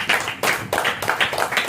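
A church congregation claps for Jesus in a quick series of sharp, close hand claps, loud and rhythmic in short bursts, with no talking over them.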